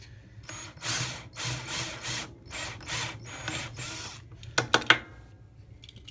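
A small drill bit grinds off rivet heads on a Hot Wheels die-cast car, a series of short buzzing bursts with brief pauses, then a few sharp clicks near the end, close and fairly quiet.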